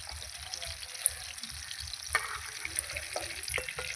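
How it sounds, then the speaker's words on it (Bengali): Chicken satay frying in a wok, a continuous crackling sizzle with a few sharp pops and light scraping, close and steady at moderate volume with no talking. "এই যে দেখুন, এইভাবে ভাজতে হবে"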